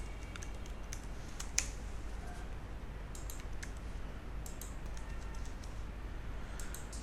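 Quiet typing on a computer keyboard while entering address data into a form, sparse clicks and light key taps over a steady low hum, one sharper click standing out early on.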